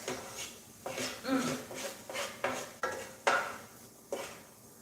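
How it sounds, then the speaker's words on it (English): A spoon scrapes and clinks against a pot while a chicken dish is stirred, giving a series of rhythmic metallic knocks and scrapes at a moderate, close distance. "we're going to give it a stir"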